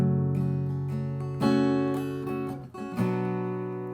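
Acoustic guitar strummed in a pattern, low notes on the first beats, then sharper accented high-note strums about every 1.5 seconds, ringing sustained chords played alone and close.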